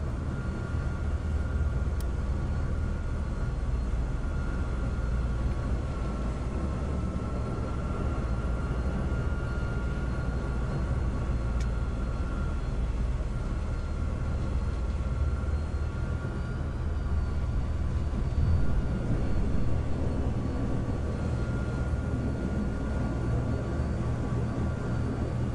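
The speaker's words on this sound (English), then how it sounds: "So the helicopter is just amazing." A helicopter flying in the combat flight game Nuclear Option gives a steady, loud, continuous rotor and engine drone with no breaks and no talk.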